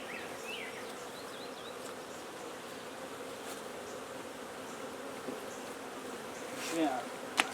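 Steady insect buzzing from many honeybees fills the clip at a moderate level, with a few brief closer passes and a faint chirp near the end.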